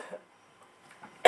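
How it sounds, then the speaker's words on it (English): A single sharp, loud cough bursts out at the end, uncovered, after a near-silent pause with faint breathy sounds before it. "This is what happens if I cough and I don't cover my mouth."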